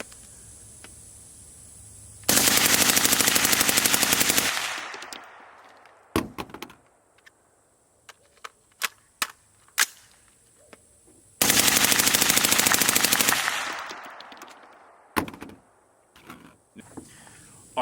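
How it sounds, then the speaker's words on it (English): An FRT-15 rifle fires two long, loud, rapid magazine dumps, each a dense continuous burst, with metallic handling clicks and scattered single shots between them. "let's go ahead and enjoy this little mag dump montage"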